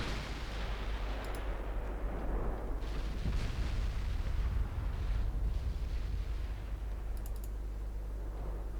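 Naval gunfire from warships in the strategy game Ultimate Admiral Dreadnoughts rumbles as a dense, continuous barrage of booming shots and low explosions, with no voice over it.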